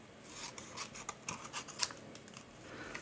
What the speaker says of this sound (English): I'm just going to trim the excess off here.